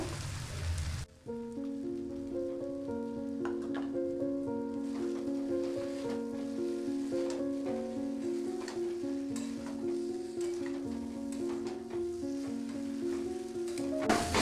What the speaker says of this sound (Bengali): প্রথমে ফুলকপি এবং আলুটা মিশিয়ে নিয়ে কিছুক্ষণ নাড়াচাড়া করে নেব।